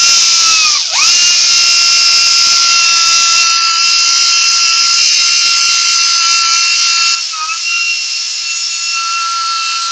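A power sander runs with the final grit of sandpaper on a wood surface, a loud continuous high whine that dips briefly in pitch as it bites, then holds steady before easing slightly near the end, with no talking.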